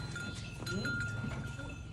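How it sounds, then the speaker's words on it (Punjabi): Buffalo on a Punjabi farm, with a steady, close, dense mix of animal noise throughout, including cowbell-like clanks and some low bleat-like calls. "ਇਹ ਮੱਝ"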